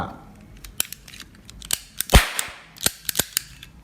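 An old steel toy cap gun fires caps in a quick run of sharp, loud snaps, one especially hard crack among them, with metallic clicks of the cylinder and someone talking between shots.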